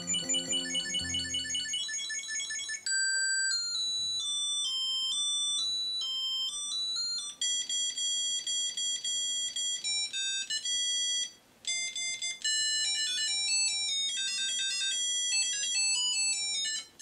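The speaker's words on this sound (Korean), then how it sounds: "치폴로 같은 경우에는 벨소리 사운드마저 변경이 가능합니다" A Chipolo location tracker tag's bright electronic ringtone plays a series of high, chiming melodic beeps, changing tunes a few times with short gaps between them.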